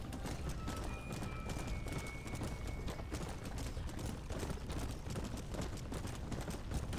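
Horse hooves clip-clopping in a cowboy video game, very faint and distant, a rapid steady patter of hoofbeats running throughout at low volume.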